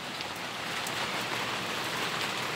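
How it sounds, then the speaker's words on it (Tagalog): Steady rain pours down during a rainy-season morning at a small breakfast stall, a dense continuous hiss of drops hitting surfaces, close and loud with no voices. "Umuulan."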